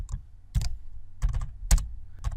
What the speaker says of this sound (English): start typing the name of that file and tab to get the complete file name